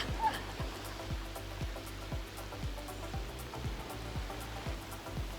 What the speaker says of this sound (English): It's 2 o'clock in the afternoon and it just started raining.